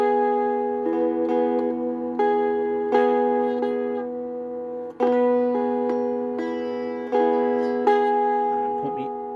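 An electric guitar plays a slow sequence of clean, sustained notes and chords, each struck cleanly and left to ring and fade before the next, with a brief muted scrape at the end and no talking.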